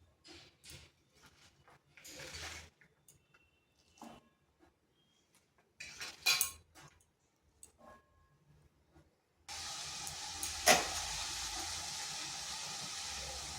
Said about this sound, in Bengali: এখানে কড়াই বসিয়েছি, দিয়ে দিচ্ছি পুঁই শাকগুলো।